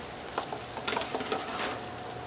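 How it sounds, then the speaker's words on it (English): Chicken pieces seared skin side down in a smoking-hot pan for coq au vin, giving a steady close sizzle with a few sharper crackles and spatters and no talking. "Make sure the pan is hot, smoking. Presentation side down, meaning this is the skin side"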